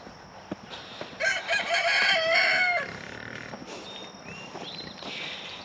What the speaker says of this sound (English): They're all roosters.